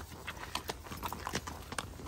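Horse hooves clip-clop at a walking pace on a countryside outing in Bosnia, a steady run of fairly faint, evenly spaced strikes with no talk over them.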